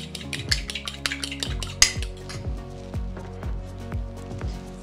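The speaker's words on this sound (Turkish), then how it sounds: "Bir adet yumurtamızı çırpıyoruz." A single egg is whisked with a fork or utensil against a bowl, a quick steady run of sharp clinking taps with light wet swishing, close and fairly loud, with no talking.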